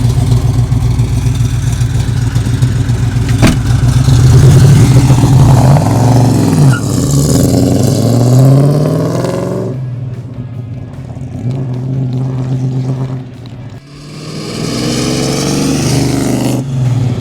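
A loud 1970 Dodge Challenger R/T engine roars closer, revving hard as it accelerates past, then fades before another burst of throttle, with no voices.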